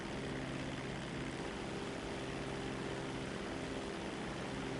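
A propeller airplane flies in GTA V Online, its engine a loud, steady, unbroken drone with no talking.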